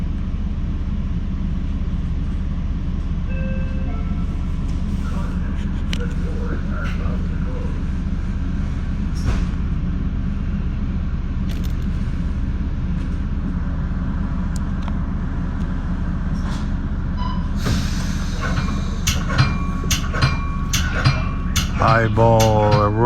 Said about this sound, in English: We have an Electro-Motive F40PH-2 or -3 pushing.